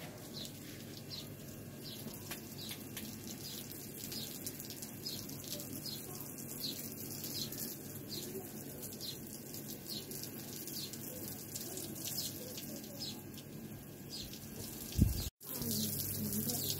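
Steady stream of water pouring from a motor pump outdoors, continuous and moderately close, with faint birdsong in the background and a brief thump near the end.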